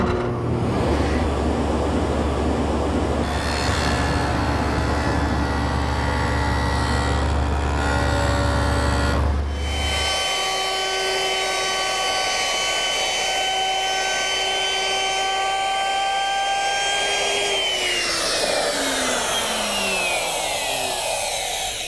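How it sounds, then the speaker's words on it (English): A stacked dado head cutter in a table saw, tilted to 40 degrees, cuts an angled groove in wood: a loud, steady whine with deep chewing for about ten seconds, then the blade spins alone and winds down. "I've set up the stacked dado head cutter in my table saw and tilted it to 40 degrees"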